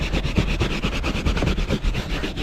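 A hand brush scrubs back and forth in quick, regular strokes on a car under restoration, each pass a short scratchy rasp in a steady rhythm, close up with no talking.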